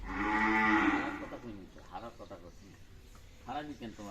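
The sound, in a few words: cattle mooing at a market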